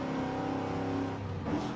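Aston Martin DBS engine in Forza Horizon 5, a steady loud engine drone with harmonic layers that shift slightly as revs change, close and continuous with no talk.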